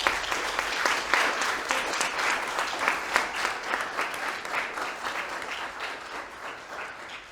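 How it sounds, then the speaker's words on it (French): Sustained applause from an audience at a graduation ceremony for final-year secondary students, honouring their teachers and educators; dense, steady clapping with a few louder bursts, slowly thinning toward the end. "Je vous invite une dernière fois à applaudir votre titulaire, vos professeurs et éducateurs pour leur excellent travail durant toutes ces années."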